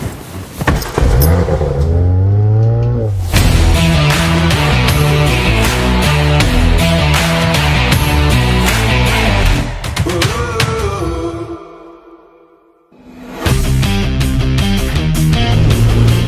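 Audi car on the road idles, then revs and accelerates loudly through rising and falling engine tones up close, dips nearly to quiet, then pulls away strongly again.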